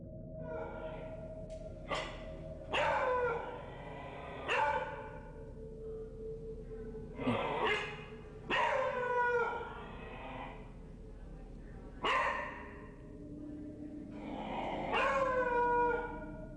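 A beagle barks and growls late at night in a kitchen, with a series of drawn-out, howl-like vocal bursts at irregular intervals over steady background noise, fairly close and moderately loud.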